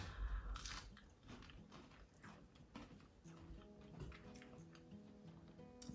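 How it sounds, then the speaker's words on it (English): Close, crisp bites and chewing of fried potato, pea and cheese balls coated in breadcrumbs, a quick crackly crunch followed by softer repeated chewing, with no talking. "The breadcrumbs adding to the crunch,"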